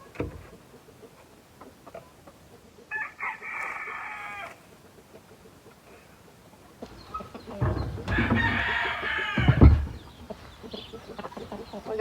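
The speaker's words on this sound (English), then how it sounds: "Let your chickens scratch around in it." Chickens cluck and crow in short bursts, one around the middle and a louder, longer stretch later, over quiet background noise.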